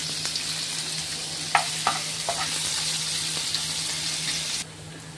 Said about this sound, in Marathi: मोहरी घालायची 1 चमचाभर, थोडे हिंग घालायचे आणि 1 कांदा घालायचा